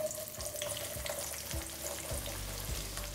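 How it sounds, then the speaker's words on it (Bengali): 300 grams of small onions fry in a pan, a steady close sizzle with the scrape of stirring running through it and no one talking. "আমি এখানে এই ছোটো পেঁয়াজটা নিয়ে নিয়েছি 300 গ্রাম, যেটাকে আমি ভালো করে একটু ফ্রাই করে নিচ্ছি।"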